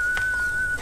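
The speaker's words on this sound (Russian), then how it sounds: "научите меня свистеть" A person whistles a single steady, clear note that holds for under a second against a low background rumble, in a Russian war-film scene.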